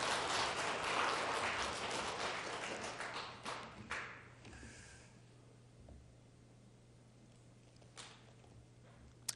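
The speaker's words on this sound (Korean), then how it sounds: "감사의 박수 한번 하겠습니다." A church congregation gives a round of applause of thanks during an afternoon service, a burst of clapping that starts full and dies away within about five seconds, leaving a low hum and a few scattered claps.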